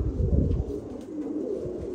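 A red pigeon coos softly nearby, a few low, throaty murmurs over quiet background.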